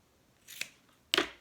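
Scissors snip through excess fabric from an in-the-hoop zipper bag, two short crisp cuts about half a second apart, close and fairly quiet with no talking.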